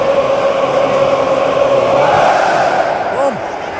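Rapid Wien's Block West roars a sustained, loud, droning chant across a packed Vienna football stadium during a European qualifier against AC Florenz, the massed voices swelling and then easing slightly near the end.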